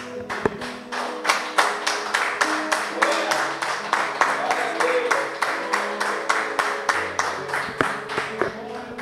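Steady rhythmic clapping from a church congregation greeting God, sharp claps in a regular beat for several seconds with a faint voice beneath.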